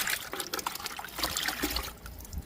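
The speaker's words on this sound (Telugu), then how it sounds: "ఈ లిక్విడ్ మొత్తం జామ మొక్కకి ఇస్తున్నానండి" Liquid fertilizer pours from a container onto a guava plant, a continuous close splashing trickle that fades out near the end.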